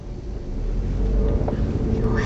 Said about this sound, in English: So now we're going to speed up as shown on the speedometer.